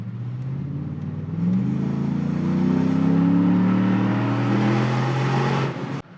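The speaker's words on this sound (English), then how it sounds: "I'm gonna give her a little throttle" A Ford Raptor pickup's engine, running on E85, revs up steadily, rising in pitch and holding a loud, throaty roar before dropping off abruptly at the end.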